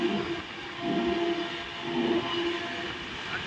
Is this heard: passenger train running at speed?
yes